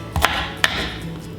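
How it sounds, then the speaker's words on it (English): A knife chops thick-skinned potatoes for soup, two quick sharp cuts close by against a quiet kitchen background. "I'll just keep chopping till I have 2 bags of potatoes cut up."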